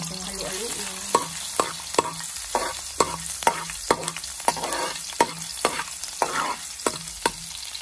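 Garlic stirred in a hot home-kitchen pan, a steady sizzle of frying broken by repeated sharp scrapes and taps of the utensil at a quick, fairly even rhythm, close up with no talking.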